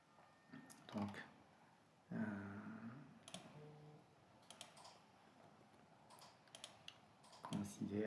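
Keys clack on a computer keyboard as arrow keys are tapped in short irregular bursts of quiet clicks, with someone speaking softly between them.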